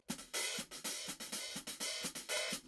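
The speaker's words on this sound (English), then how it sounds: "and with the neck on the edge" Hi-hat edge struck with the neck of a drumstick, giving a gritty, washy metallic chick, repeated in a steady fast pulse, close-miked and played alone without speech.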